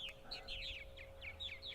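Purple martins chirp and warble around martin bird houses on Eastern Long Island, New York, on a spring morning: a quick series of bright, overlapping calls, moderately near, over a low hum.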